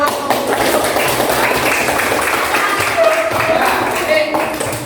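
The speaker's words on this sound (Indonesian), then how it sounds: "Ya, tepuk tangan." Classroom of elementary school pupils clapping together in a steady, dense patter of hands, fairly close and lively, with children's voices mixed in.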